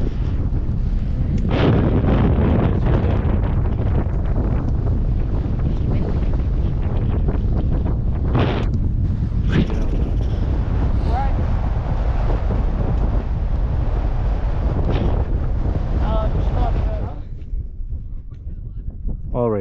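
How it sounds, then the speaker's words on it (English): Strong wind roars across a mountain summit on Baldy, buffeting the microphone in a steady rush that fills the clip, easing slightly near the end; people talk faintly underneath. "Listen to that wind."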